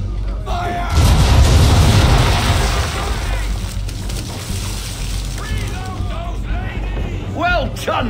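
A ship's cannons fire a broadside in the video game Assassin's Creed III, a loud deep boom followed by a long rumbling decay, with voices talking over the aftermath.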